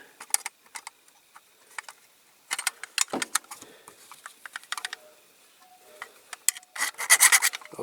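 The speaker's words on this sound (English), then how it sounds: "I'll keep filing that off camera and then I'll come back to it" A metal file rasps against a die-cast Dinky Toys Bedford TK Castrol van being restored, in short close scraping strokes, irregular at first, then a denser burst at the end.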